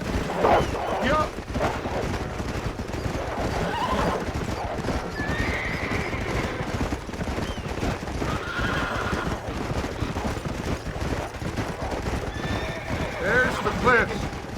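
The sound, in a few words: horses neighing and hooves in video game Red Dead Redemption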